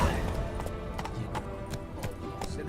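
Roach the horse gallops in The Witcher 3 with rapid, rhythmic clip-clop hoofbeats at close range under a low rumble of in-game background sound.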